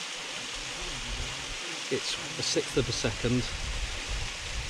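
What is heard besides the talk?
waterfall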